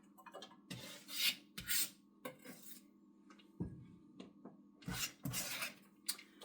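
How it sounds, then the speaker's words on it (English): Vegetables being chopped with a knife on a cutting board in a home kitchen: irregular close sharp knocks and short scraping strokes, separated by quiet pauses. "find it very therapeutic to chop vegetables."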